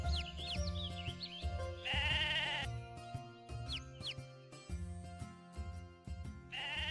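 Sheep bleat in the video game Mabinogi, repeated loud wavering bleats over a looping background tune with bright chiming notes.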